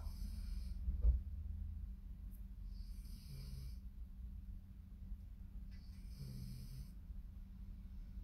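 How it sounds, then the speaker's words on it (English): Dog snoring nearby in a quiet room, three slow wheezy snores with raspy hissing breaths, spaced a few seconds apart and fairly faint. "The dog snoring."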